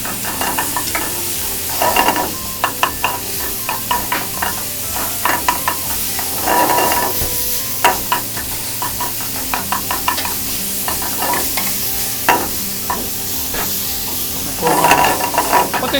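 Minced meat seasoned with mirin and soy sauce is stir-fried over high heat, giving a loud sizzle under repeated quick scraping and clanking strokes, for a staff meal of cold sesame tantan udon.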